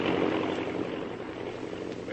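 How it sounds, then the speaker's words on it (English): Steady broadband drone of an airplane cruising in flight, a continuous engine-and-air roar at moderate level as a radio drama sound effect, with no voices. "the plane speeds along to its first stop"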